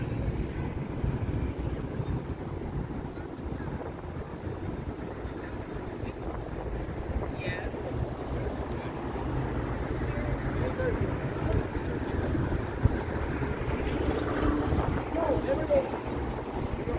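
Steady outdoor wind rumbling and buffeting the microphone on a Friday-evening walk along University Avenue in Toronto, with low broadband noise throughout and faint background city activity.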